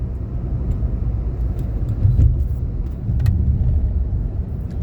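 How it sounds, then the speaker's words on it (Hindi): A PTCL company vehicle rolls past on a road, its steady engine rumble and tire noise swelling as it nears, loud and close, with no talking. "अच्छा, पीटीसीएल की गाड़ी थी, काम कर रहे होंगे।"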